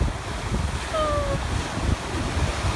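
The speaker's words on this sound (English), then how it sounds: "we're hoping that the waves get a lot bigger" Ocean surf rolls steadily onto a beach, a continuous loud wash of waves with wind buffeting the microphone and no clear speech.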